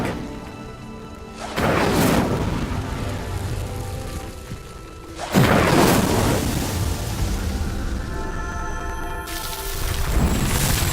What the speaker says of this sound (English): Incendio! The flames make the pyres sink.